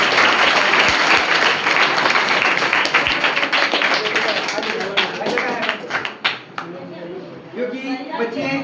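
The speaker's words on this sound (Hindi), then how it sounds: "एक बार हमारे नेम के लिए भी ताली बजाइए सर।" Students applaud at a school assembly on an anti-drug pledge, dense clapping from a crowd that gradually thins into scattered claps, with voices audible underneath.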